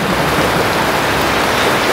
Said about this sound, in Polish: Ale pada